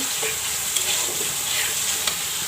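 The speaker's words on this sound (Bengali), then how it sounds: "এখন আমি তেলাপিয়া মাছটা মশলা কষাই দিয়েছি" Tilapia sizzles steadily in hot oil in a pan with ground ginger, garlic, onion, coriander, cumin, turmeric and chili, with a few soft scrapes of stirring and no talk.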